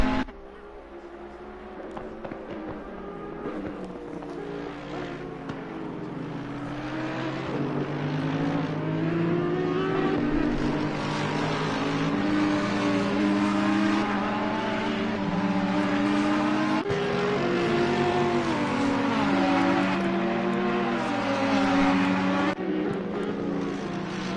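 GT3 race cars, including an Audi and a Ferrari, racing at Oulton Park: engines roar steadily as the cars pass, with rising and falling tones as they shift gears and change speed, loud and continuous throughout.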